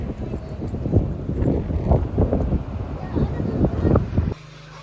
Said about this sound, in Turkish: Ay arkadaşlar çok güzel ama çok esiyor burası.